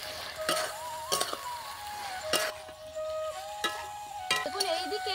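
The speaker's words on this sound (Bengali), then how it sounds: "এই সময় আমি দিয়ে দেব ফুলকপি ভাজা আর আলু ভাজাগুলো, দিয়ে ভালো করে নাড়তে থাকবো" Fried cauliflower and potatoes stirred into hot oily masala in a pan, a steady sizzle broken by several sharp scraping stir strokes, close and moderately loud with no talk.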